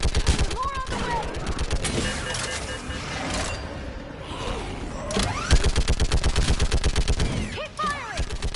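Rapid bursts of automatic gunfire in a Mass Effect 3 battle on a bridge, loud and dense throughout, with sustained volleys and sharp cracks layered over shouted voices and game effects.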